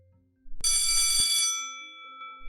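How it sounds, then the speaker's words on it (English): A bright bell rings loudly and close at the end of a session, a sustained metallic clang that starts abruptly, holds, then decays into a lingering tone. "The bell just rang, signaling the end of our session."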